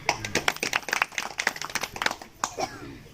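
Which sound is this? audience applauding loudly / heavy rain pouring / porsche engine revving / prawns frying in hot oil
audience applauding loudly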